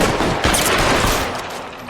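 Dense, rapid gunfire from a shooter video game in LA Noire, loud bursts and shots overlapping continuously throughout, with no talk.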